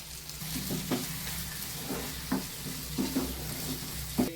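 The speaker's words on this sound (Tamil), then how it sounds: "இதெல்லாம் வதங்குது இல்லப்பா" Curry leaf paste and spices sauté in a hot pan for a Tamil curry leaf kuzhambu, a steady close sizzle broken by soft scraping stirs every second or so.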